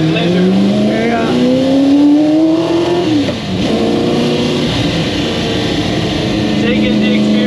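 A 1968 Ford GT40 Mk1 race car engine roars loudly from inside the cabin, revving up through a gear, dipping on a shift, then climbing again with a harsh sustained drone.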